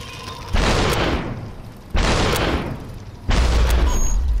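Three heavy gunshots from the VR game Job Simulator ring out about a second and a half apart, each a loud booming blast that decays slowly, with no talk over them.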